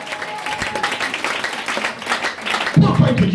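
A church congregation claps and cheers during a French-language service, a broad wash of applause with a voice rising over it and a louder swell of crowd noise near the end.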